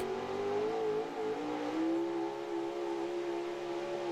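A pulling truck's engine roars at a truck and tractor pull, holding a loud, steady high-revving drone with slight pitch rises, close and continuous with no talk.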